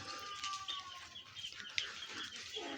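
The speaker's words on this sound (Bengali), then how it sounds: "আমার সামনে দেখতে পাইতেছেন পোলট্রির মুরগির বাচ্চা" Faint, high-pitched peeping of many young poultry chicks, scattered and overlapping, with soft clucking from hens in a quiet cowshed.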